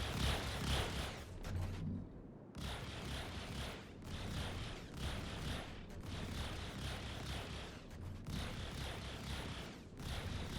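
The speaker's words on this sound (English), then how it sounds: "That's a serious amount of fire coming directly from the nose" The nose guns of a Vanguard Sentinel ship in Star Citizen fire in a rapid, continuous mechanical rattle of shots, loud and close, with a brief pause early before the barrage resumes.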